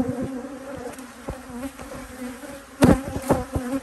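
Close, steady buzzing of many angry honeybees around an apiary hive, droning continuously with a few louder passes near the end.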